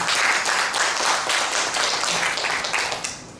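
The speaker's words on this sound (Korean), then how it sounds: "지금 인사해주신 토론자분들께 다시 한번 큰 박수 부탁드립니다." A hall audience at a Chungnam women's forum debate claps for the panelists, a close, loud run of many overlapping hand claps that holds steady from start to finish, with no talking.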